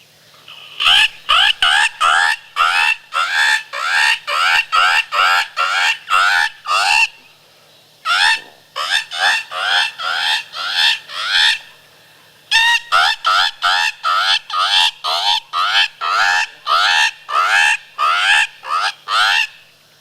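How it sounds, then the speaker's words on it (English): A three-reed double-slash bird distress predator call, blown hard in rapid series of squealing, honking cries, loud and close, with short pauses between bursts. "Here's my version on the 3-reed double slash, bird distress."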